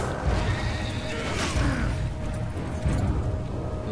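Horse neighing in the Darksiders video game on PC, a faint whinny mixed into a dense bed of game noise and low rumble, with no talk over it.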